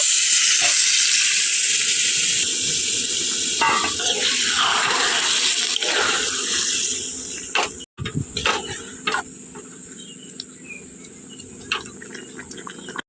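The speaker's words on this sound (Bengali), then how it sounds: "এখন দিয়ে দেব যেই গরম জলটা করে রেখেছিলাম, সেই গরম জলটা এর মধ্যে দিয়ে দেব" Hot water is poured into a hot pan of frying Malabar spinach stems and vegetables, producing a loud, close hiss of steam. The hiss lasts several seconds, then drops to quieter bubbling with a few clatters.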